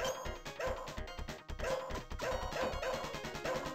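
Repeated dog barks and yips come in a steady run of bursts over arcade game noise, close and prominent with no voices.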